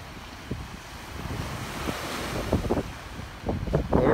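Ocean waves wash up on the beach at Saly near Dakar, Senegal, a rushing surf blended with steady wind noise on the microphone, growing louder toward the end.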